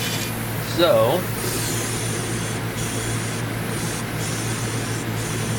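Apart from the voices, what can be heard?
paint sprayer spraying red paint on a tumbler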